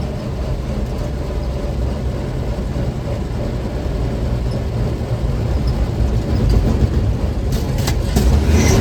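A 1942 Chevy G506 World War II truck drives along with a steady, loud engine drone and rumble that holds evenly throughout and swells slightly near the end.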